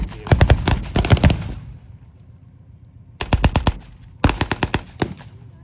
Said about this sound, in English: upon or even illegal to use the 50 caliber machine gun against ground targets.